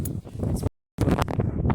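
Steady buffeting wind noise roars against the microphone, cutting out abruptly for a moment before rushing back just as strong.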